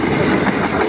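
A KRL commuter electric train, series 205, rushes past close by at speed, a loud dense roar of wheels and rail noise filling the whole moment.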